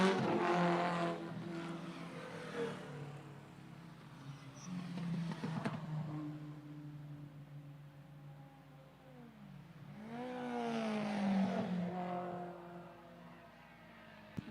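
Vintage race cars, including a Hillman Imp, going through turn 1 at Lime Rock Park, engines droning from a distance and rising and falling as they pass, with a louder surge near the end.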